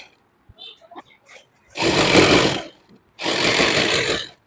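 Sewing machine stitching a lined suit in two loud bursts of rapid mechanical whirring, close by, with a short pause between them and faint handling clicks before the first burst.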